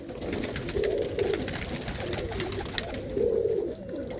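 Pigeons in a loft flock of around two hundred birds coo in repeated low, throaty bursts, several calls overlapping close by against steady background noise.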